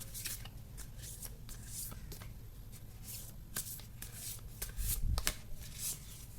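Tarot cards are shuffled by hand in a quiet, continuous stream of soft riffling and papery flicks, with a slightly firmer burst near the end.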